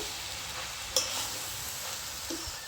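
Spring onion greens frying in a pan for a potato and brinjal chorchori, a continuous close sizzle with a sharp utensil clink near the start and a few soft stirring scrapes, no voices.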